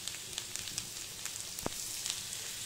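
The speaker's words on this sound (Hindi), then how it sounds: "हम इसमें डालेंगे 1 बड़ा चम्मच लहसुन यानी कि गार्लिक, जिसे हमने बारीक बारीक काट रखा है, और इसे जस्ट आधा मिनट तक हम भूनेंगे।" Finely chopped garlic frying in butter in a pan while making white sauce macaroni pasta, a soft steady sizzle with faint crackles and one sharper pop, no voices.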